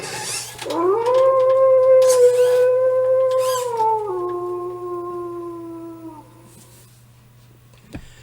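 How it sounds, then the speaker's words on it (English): A DIY animatronic Halloween werewolf lets out a long, loud howl at the moon, its steady wavering tone held for several seconds before dropping lower and fading, with a sharp click near the end. "and then he does a bit of howling at the moon"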